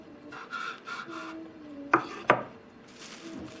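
A knife saws through homemade maki rolls on a board, giving a few soft rasping strokes followed by two sharp, close taps of the blade against the board.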